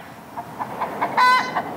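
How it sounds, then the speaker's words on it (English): A hen clucks loudly after laying an egg, a run of sharp, rhythmic clucks that builds to a louder, drawn-out squawk near the end, close by and with no voices. "Chicken's going crazy back there."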